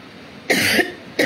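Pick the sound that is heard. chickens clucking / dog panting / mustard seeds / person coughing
person coughing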